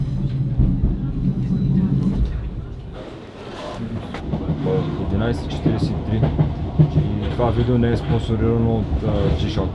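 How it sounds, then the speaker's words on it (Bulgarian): A train rolls along the rails with a steady rumble and rhythmic clacking heard from inside a carriage, while people talk over the running noise. "Това е нашия влак."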